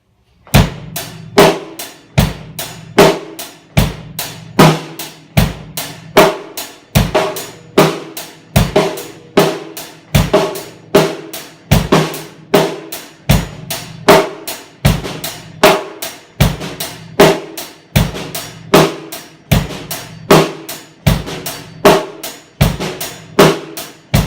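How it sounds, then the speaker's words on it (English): A steady rock drum groove plays alone, kick and snare hits repeating in a tight pattern with some notes struck noticeably harder than others. "I'll accent it for this example, and then we'll bring it down to a ghost note"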